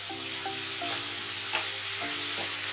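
Turmeric and chili powder are stirred into a frying fish curry with tomato. A spatula scrapes the pan in a few rhythmic strokes over a constant close sizzle, and no one speaks.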